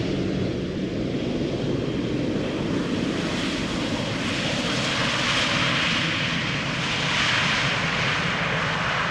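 A fixed-wing airliner at Amsterdam Schiphol Airport gives off a steady, loud engine roar that fills the whole span with broadband rumble, rising slightly toward the end, with no voices.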